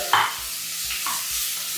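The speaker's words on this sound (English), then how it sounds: "round the pork to start frying right away" Pork mince sizzles and crackles in a hot pan, with a few scraping stirs of a utensil; no talking.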